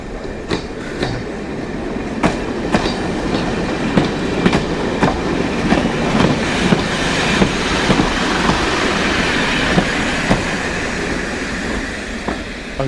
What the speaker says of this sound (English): there's an old diesel train coming in